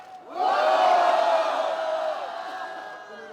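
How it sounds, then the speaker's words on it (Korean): A crowd at a nighttime candlelight rally in Korea lets out a loud, sustained collective roar and cheer that swells quickly, peaks, then slowly fades over about three seconds. "여러분들의 함성과 여러분들의 뜻이 저 청와대까지 들리게 한번 함성 한번 불러주시기 바랍니다."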